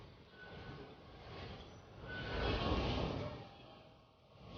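A Dubai Metro train rumbles steadily through a metro station, its broad noise swelling and fading as it passes, with no voices over it.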